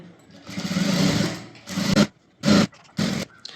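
A sewing machine stitches a blouse lining in bursts: one long steady run of rapid whirring stitches, then three shorter runs separated by pauses, close and fairly loud.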